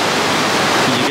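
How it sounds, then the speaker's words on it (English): Loud, steady rushing of creek rapids at Slide Rock State Park in Sedona, Arizona, in a snowy setting, a dense broadband roar of churning water close by with no pauses. "And that's some loud water."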